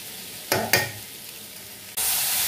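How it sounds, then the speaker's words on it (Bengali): Besan-coated jackfruit pieces fry in hot oil, giving a constant close sizzle marked by two sharp spatula knocks while they are turned, then a louder surge of crackling. "একটু উল্টে পাল্টে ভাজতে হবে সময় নিয়ে একটুখানি।"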